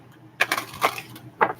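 A deck of tarot cards is shuffled by hand: three short, crisp riffling bursts close up, the last one after a brief pause, with quiet between and no speech.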